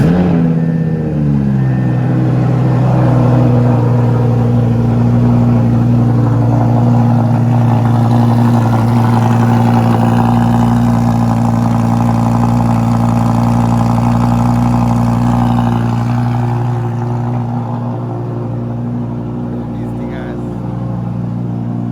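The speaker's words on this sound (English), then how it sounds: "Little cold start." An Audi R8 Performance V10 with a Capristo exhaust fires up from cold, a loud flare settling into a high, steady idle that slowly eases lower, with voices talking over it.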